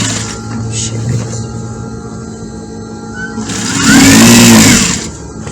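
Sewing machine stitching through the main fabric of an African-print open jacket, running steadily in the background and swelling louder for about a second near the end, with faint room noise throughout.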